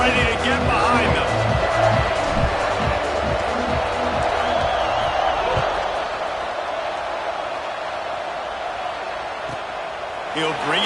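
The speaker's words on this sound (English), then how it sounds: "They're set to kick it off, and this crowd now ready to get behind them." A football stadium crowd at a South Carolina versus Georgia Tech game roars steadily before kickoff, a dense, loud wash of cheering under a commentator's voice that eases off slightly toward the end.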